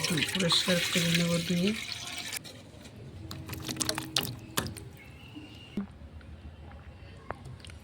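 Olives for a sour-spicy pickle are rinsed under a running tap, with a gushing stream for about two seconds, then scattered drips and small clatters. A voice speaks over the water.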